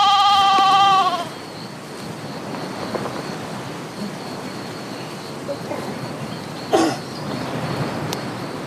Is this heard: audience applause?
no